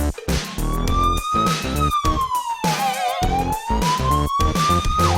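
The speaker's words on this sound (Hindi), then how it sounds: "Play police siren." A loud police siren in the horror game Granny wails continuously, its pitch sweeping up and down, broken by brief gaps, close and dominant.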